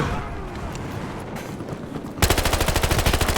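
Machine gun fire in Battlefield: after a stretch of muffled battle noise, a loud, close automatic weapon erupts into a rapid, evenly spaced stream of about a dozen shots.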